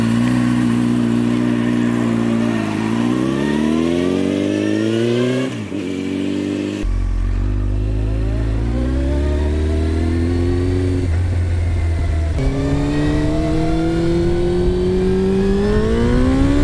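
A carbureted 1993 Honda CBR900RR Fireblade with a Two Brothers aftermarket exhaust revs up and down repeatedly, its pitch rising and falling through several throttle blips, loud and close with a rough, throaty exhaust.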